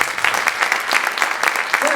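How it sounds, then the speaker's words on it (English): Audience applause at a comedy hypnosis show, a steady wash of many hands clapping close by for about two seconds, with voices mixed in. "Give him a nice round of applause."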